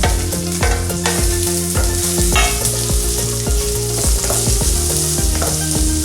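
Sliced onions fry with green chillies in a pan while soya chunk masala is being made, giving a loud, steady sizzle with rhythmic stirring strokes throughout and music playing over it.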